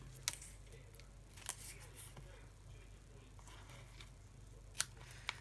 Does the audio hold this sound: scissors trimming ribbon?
yes